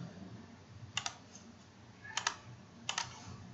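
Mouse clicks while working in Staad Pro structural design software land as three quick, crisp pairs of double-clicks, close and faint, spaced about a second apart over a quiet room with no speech.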